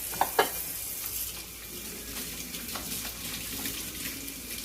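Hands being washed under a running kitchen tap while roasted stuffed Cornish hens are prepared, a steady close splash of water with a couple of sharp clatters at the start.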